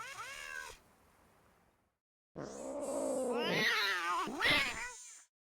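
A cat in the Nancy Drew game Shadow at the Water's Edge gives a short meow, falls quiet, then lets out a long, wavering, rising growl-yowl, loud and close, with no talking.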